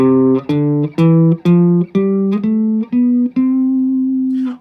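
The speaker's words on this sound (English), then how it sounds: "play these major scales on one string" Eight plucked guitar notes of a major scale played on one string climb step by step in an evenly paced scale, each ringing briefly before the next, the last note sustained and fading.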